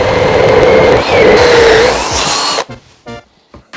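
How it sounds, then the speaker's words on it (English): A power drill whines loudly as it bores through wood, pitch shifting under load, then stops and winds down into quiet. "when the drill bit comes through all the way"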